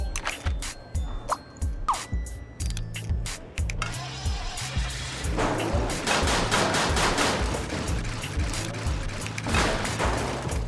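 Tank cannon fire and explosions in the Scribblenauts Unlimited video game, repeated gunfire bursts over a steady game music loop, growing denser and louder in the second half.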